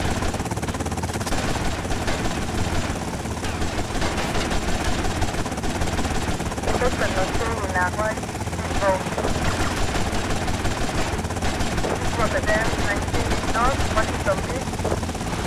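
A helicopter in GTA Vice City drones with a steady, loud rotor-and-engine roar that runs unbroken for the whole stretch, mixed with other game noise while a person talks over it.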